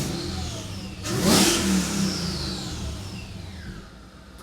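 A Mercedes E55 engine (M113K, upgraded 92mm throttle body) heard from inside the cabin revs up sharply, roars for a moment, then eases back down toward a lower hum.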